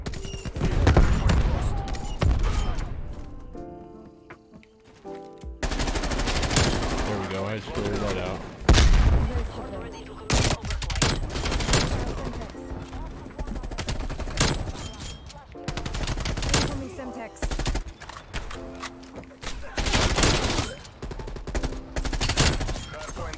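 A Groza rifle fires in the Call of Duty Cold War video game, with rapid bursts and heavy fusillades of gunfire amid other battle noise, while a player talks excitedly over the shooting.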